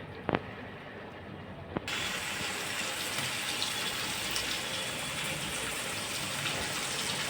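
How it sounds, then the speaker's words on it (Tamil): After a couple of small clinks, water begins pouring steadily into a pot of cooking chicken, a constant close splashing gush that continues to the end. "நம்ம கொஞ்சமாக தண்ணி சேர்த்துக்கலாம்"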